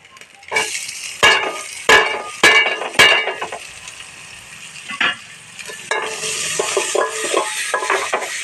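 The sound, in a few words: vegetables sautéing in a pan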